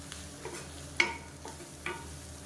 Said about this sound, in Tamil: அந்த கீரை வந்து லைட்டாக அப்படி வதங்கினா போதும்